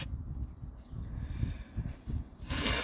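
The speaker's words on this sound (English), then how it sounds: "Let me blow my nose." A person blowing their nose, a series of short, close nasal snorts and puffs of breath in an uneven rhythm, ending in a louder, longer blow.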